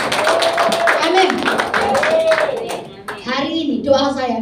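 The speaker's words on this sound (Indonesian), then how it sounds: "Tepuk tangan untuk Tuhan." Church congregation claps for God during a worship service, a burst of rhythmic hand clapping with voices speaking and singing over it, thinning out toward the end as talk takes over.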